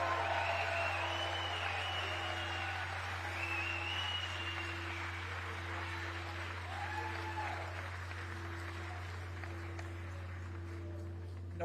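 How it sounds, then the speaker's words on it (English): Sustained applause from an event audience fills the whole stretch, a dense, even clapping wash over a steady low hum. "Yes, let's applaud for that."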